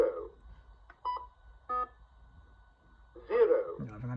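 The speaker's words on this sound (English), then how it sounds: "when it makes that noise, it means it's got a low battery" A small battery-powered device gives a few short, separate electronic beeps as a low-battery warning, with a person talking just before and after.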